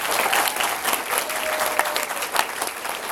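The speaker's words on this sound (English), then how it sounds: "please give a warm round of applause for all of our guests who are kind enough tonight" Loud, dense applause from a convention audience for guests at an anime event's closing ceremony, continuous clapping throughout with faint crowd murmur beneath.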